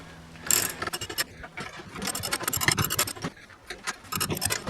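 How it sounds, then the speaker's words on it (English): A spring compressor is wound off a car strut during a rebuild with a new shock. Close, crisp ratcheting clicks and metallic scrapes come in uneven bursts, with no talking. "Now I'm just undoing the spring compressor."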